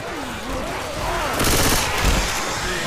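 Rapid automatic gunfire from Left 4 Dead 2 rattles in dense, loud continuous bursts that build toward the end, with a voice faintly underneath.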